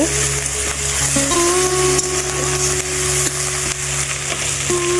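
Onion paste sizzles and fries steadily in hot oil in a pan for a fish curry with potol, a continuous close crackle with faint tonal hum underneath and no talk.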